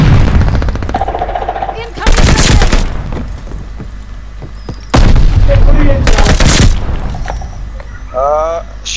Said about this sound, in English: I can tell we're shooting.